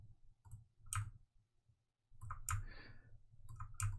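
Several soft, close computer mouse clicks in a quiet room, spaced irregularly while alt-click dragging objects in 3D software.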